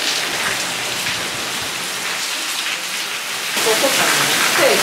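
Rain falling steadily on the Italian island of Ischia, a constant hissing wash of drops that grows slightly louder and denser toward the end, with no clear talk over it.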